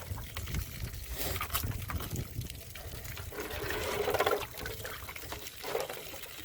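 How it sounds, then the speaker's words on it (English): Water pours and splashes out of a jug from a rifle jug test, a continuous gurgling trickle with louder glugs, close and fairly loud throughout. "I'm going to try and pour it out without getting all wet."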